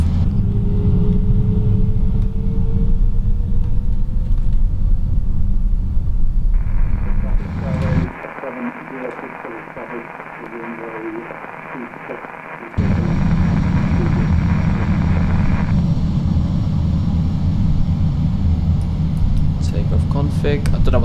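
Airbus A320 engines in a flight simulator hold a steady low rumble that drops away and then returns louder as thrust builds on the runway, with talk over the roar.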